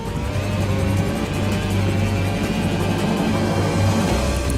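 F1 car engine in the Red Bull F1 simulator on a lap of Valencia, Spain, a continuous loud, droning engine roar with steady harmonic whine, close and uninterrupted, with no talking.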